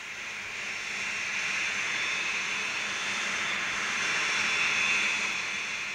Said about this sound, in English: The delta-winged Javelin all-weather fighter is the main RAF defence weapon.